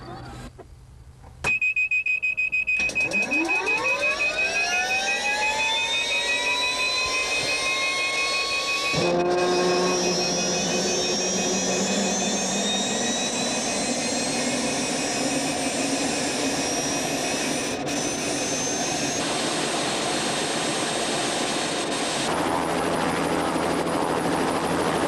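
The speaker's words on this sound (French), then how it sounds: "L'hélicoptère employé par Hélistar est un Bell 206 B3" Bell 206 B3 helicopter taking off, a turbine whine rising steadily in pitch as the engine spools up, joined by a broad roaring rumble that stays loud and continuous throughout.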